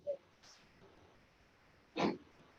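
A single sharp sneeze bursts out, short and fairly close, with faint murmuring and small noises around it in a quiet room.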